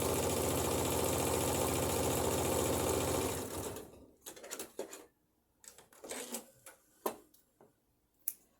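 Sewing machine stitching a bodice ruffle, a loud steady whirring run for several seconds, then stopping, followed by scattered handling clicks and taps nearby.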